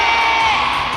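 A concert crowd cheers and shouts during a sound check, a dense, loud, continuous wall of voices with high-pitched screams, filling the whole second without a break.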